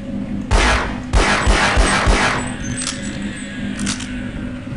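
Several gunshots in Half-Life, sharp broadband bursts in a quick uneven volley of about five shots over a steady low game hum, followed by quieter clicks and ambient tones.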